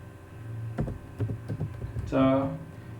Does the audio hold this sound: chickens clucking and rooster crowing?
no